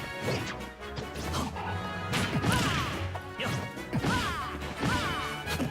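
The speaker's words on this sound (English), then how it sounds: "Nemo, you need to chill with these Hail Mary S smashes" Loud smash impacts and whooshing swipes from a Super Smash Bros. match with Sonic against Mewtwo, Charizard, Jigglypuff and Cloud, several heavy side-smash hits landing over busy game audio and music.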